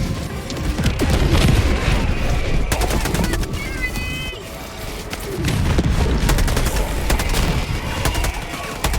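Sentry gun in Helldivers 2 firing dense, rapid automatic bursts amid booming explosions and battlefield crashes, loud and continuous with brief lulls, no talking.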